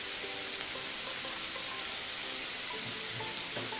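Green peas fry in a pan for egg fried rice with a dense, steady sizzle that holds at an even level throughout. Faint stirring scrapes sit under the hiss.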